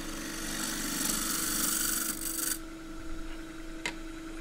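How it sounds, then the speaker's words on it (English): A 3/8-inch deep-fluted bowl gouge rides its wing across a freshly cut Japanese maple bowl spinning on a lathe, giving a steady rasping scrape over the motor hum that eases off partway through. "using a 3/8 deep-fluted bowl gouge, using the wing of the tool just to smooth this off"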